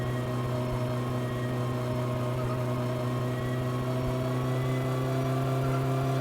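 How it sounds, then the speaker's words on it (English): The Satsuma's engine in My Summer Car drones at a steady high rev, a loud continuous whirring hum with no voices. "It sounds like a fucking jet engine, doesn't it? A really low-powered jet engine."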